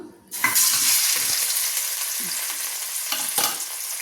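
Bitter gourd pieces deep-fry in hot oil, a sudden burst of loud, dense sizzling that begins abruptly and keeps hissing and bubbling steadily, close up, with brief stirring knocks and no voices.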